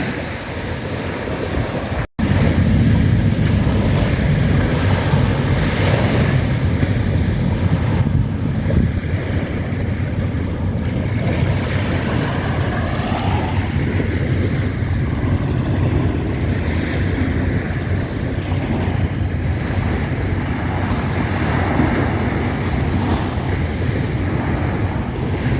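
Waves wash onto the shore at the seaside in the early morning, with a constant heavy rush of surf and strong wind buffeting the microphone throughout. After a brief dropout near the start, the sound stays steady and loud.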